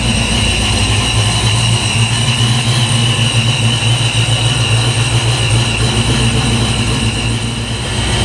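A cold Foxbody Mustang 347 V8 with a high-volume oil pump idles steadily up close, a loud, even low rumble with a constant drone and no talk for the full stretch.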